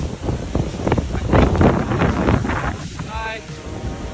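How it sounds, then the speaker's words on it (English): Strong wind buffeting at a beach on Boracay, loud gusty rumbling across the whole clip with a voice speaking over it. "It's windy out here."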